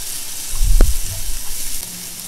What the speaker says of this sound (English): Technically this is done, but I do want to get a little bit more of a sear on this.